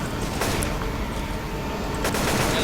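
Rapid bursts of gunfire from the zombie shooter Left 4 Dead 2, a dense fusillade of overlapping shots that runs throughout without pause, loud and close with a sharp crack.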